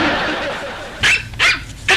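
Three short, loud dog barks come from a television set, spaced about half a second apart and following a stretch of quieter room noise.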